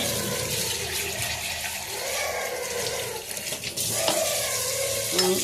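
Water poured off soaked urad dal and fenugreek seeds, a continuous close splashing, draining flow with a few louder gushes toward the end.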